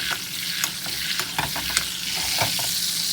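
Cajun-seasoned chicken breast sizzles in a pan on medium heat, a close, steady frying hiss punctuated by sharp crackles and pops.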